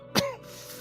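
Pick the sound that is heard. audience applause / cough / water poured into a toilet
cough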